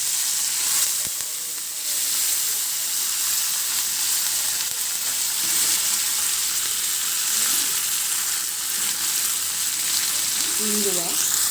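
Mustard seeds, cumin and curry leaves sizzle in hot tempering oil in a home kitchen, a loud, steady, close hiss with faint crackles that runs unbroken for the whole stretch, with no talking over it.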